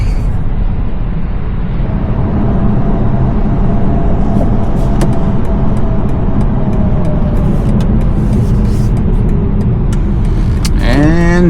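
A BMW M550 car engine runs loud and steady close by, with a continuous low rumble and a faint rising tone as it accelerates, ending in a brief burst of bright sound.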